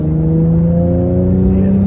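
Steady, loud revving from a 2021 Mercedes-AMG C43's exhaust in sport mode, with a sustained engine drone holding a firm pitch and brief hissy bursts near the end.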